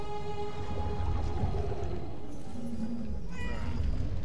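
A cat in the video game Murdered: Soul Suspect meows in drawn-out, wavering cries over dense low background rumble and game ambience.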